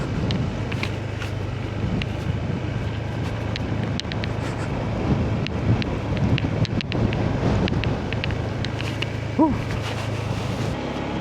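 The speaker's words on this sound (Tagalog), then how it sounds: "Oh, ang lakas ng hangin." Strong wind roars and buffets continuously, gusting against the microphone with a low rushing drone and no speech, on a mountain ride in Ilocos Norte, Philippines.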